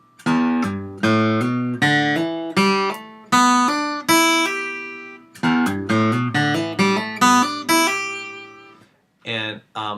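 Guitar running a pentatonic scale as a quick series of distinct notes, plucked in rhythm, the later runs slurred with hammer-ons, clear and close with no talking, then a short pause and a final pair of notes.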